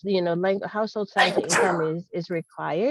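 A single sneeze bursts out during a utility assistance education meeting, briefly breaking through steady nearby talking.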